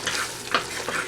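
Food frying in hot oil in a pan, a dense steady sizzle with a couple of brief stirring scrapes, close and continuous.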